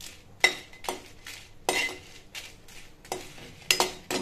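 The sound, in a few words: roasting Byadagi chillies in a pan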